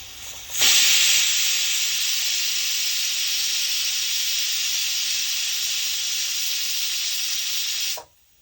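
A pressure cooker cooking biryani lets off a loud, continuous hiss of escaping steam for several seconds before cutting off sharply.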